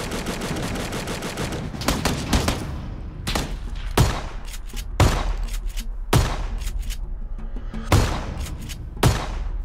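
Rapid bursts of gunfire and single sharp shots from the game Battlegrounds crack repeatedly, some near and loud with others in quick strings, over a continuous background bed.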